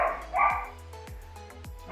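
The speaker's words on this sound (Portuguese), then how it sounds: "dá para ouvir, né? Os cachorros latindo aí." Dogs bark in short, separate yips and woofs at a moderate distance, several calls spread across the moment with a quiet gap between them and no voices.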